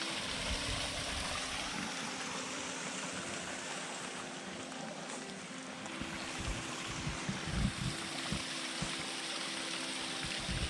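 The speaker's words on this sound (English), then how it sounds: "Another little waterfall." A small waterfall along a hiking trail in Fort Mountain State Park, a steady broadband rush of falling water heard close up and continuous, with low rumble and no voices.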